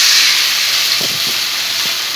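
Ivy gourd dropped into hot tempering for a potato and ivy gourd palya, a loud steady hissing sizzle that fades slightly, with a few soft low thuds of stirring up close.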